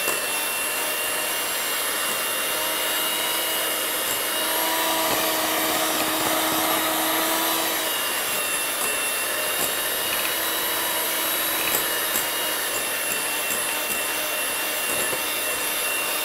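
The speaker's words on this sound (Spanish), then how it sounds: "Vamos a añadirle lo último que nos queda del azúcar y terminamos de batir perfectamente." An electric mixer beats butter and sugar for chocolate fudge frosting, a continuous high whirring motor hum with slight pitch shifts as it runs steadily throughout.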